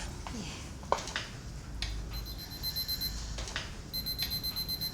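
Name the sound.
alarm clock ringing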